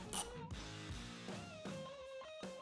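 Screws being backed out of the top battery caddy cover on a Harley-Davidson motorcycle with a 1/2 inch or T40 driver, giving close, quiet mechanical ratcheting and clicking in short bursts.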